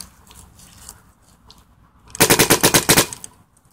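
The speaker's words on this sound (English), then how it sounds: "let's go ahead and see how easy it is to shoot with the left hand" A Zr1 Renegade paintball marker fires a quick burst of about nine sharp, evenly spaced shots, loud and close, after a moment of faint background noise.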